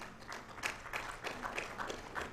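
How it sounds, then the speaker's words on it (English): Audience at an institute induction ceremony clapping for a newly called council member, a modest round of separate claps in uneven bursts at a moderate distance. "A round of applause for her, please."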